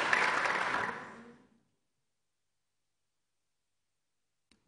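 Applause after an oath at a council meeting: a brief burst of clapping from a small group that fades out within about a second and a half, followed by near silence.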